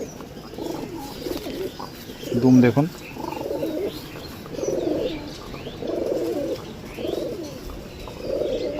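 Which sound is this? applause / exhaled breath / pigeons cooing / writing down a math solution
pigeons cooing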